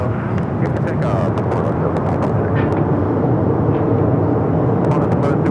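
A Qantas Airbus A380 takes off from runway 24 left at LAX with a loud, continuous broadband engine roar, and radio voices talk over it throughout.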